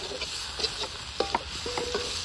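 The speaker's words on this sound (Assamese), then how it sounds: "ইয়াতে আলু গেল কেৰাহী মে" Potatoes go into a wok and fry, making light scraping and stirring knocks over a steady hiss, close by and without talk.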